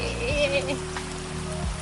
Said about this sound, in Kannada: All of a sudden it started raining like this.